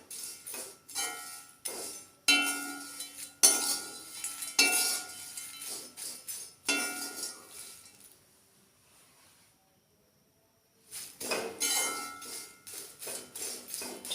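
Dried shrimp being roasted in a heavy-bottomed pan gives sharp clinks and scrapes from a spatula against the metal in irregular bursts, broken by a few seconds of near silence before the stirring resumes.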